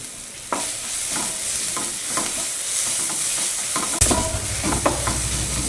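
Curry leaves hit hot oil in a pan while cooking kappa biryani, a constant close sizzle with stirring scrapes that swells into a louder crackling burst as the leaves go in.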